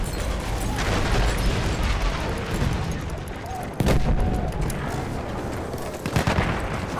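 A loud explosion and bursts of gunfire from a Battlefield 1 battle crash in close, one sharp blast cutting through dense rumbling combat noise, with shouting voices in the mix.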